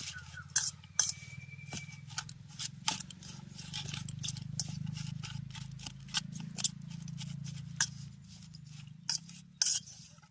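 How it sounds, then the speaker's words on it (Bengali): Chopped onion worked by hand into a paste of mustard, dried chilli and cumin for gima pora, an old Bengali village dish: soft, irregular squishing and rubbing with scattered sharp clicks over a steady low hum, close and fairly quiet, with no talk. "এবার খুব ভালো করে এগুলোকে মাখিয়ে নেব।"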